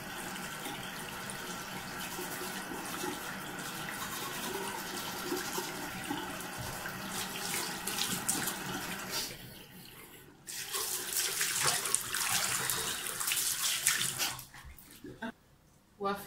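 Tap water runs steadily into a sink during body washing, a continuous splashing rush that shifts in tone partway through and briefly cuts off near the end.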